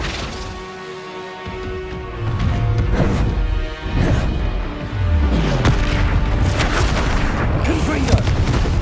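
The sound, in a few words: Flipendo spell cast in Hogwarts Legacy video game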